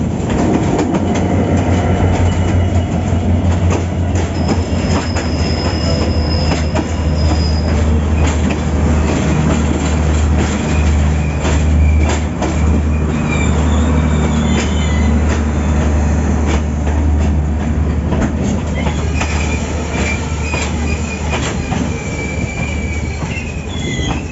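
A train pulls into Vavuniya railway station in Sri Lanka, its wheels squealing loudly against the rails over a constant low rumble and clatter of the carriages, sustained and close throughout, with no speech.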